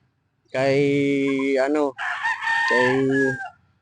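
Sweater and Raptor breed gamefowl roosters crowing at a small backyard farm in Davao City, giving two loud, close crows one after the other with a brief break between them.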